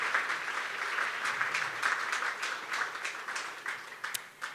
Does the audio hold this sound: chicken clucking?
no